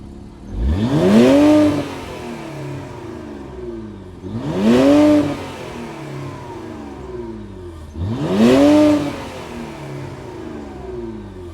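A 2024 Infiniti Q50 Red Sport 400 with a 3-liter twin-turbo V6 revs three times at a steady pace, each blip rising quickly and then falling back to a settled idle, heard close up without any talking.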